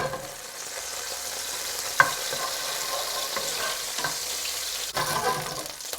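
A cinnamon stick and three or four cardamom pods sizzling in leftover onion oil in a pan, a steady close frying hiss with a few soft clinks and stirring scrapes.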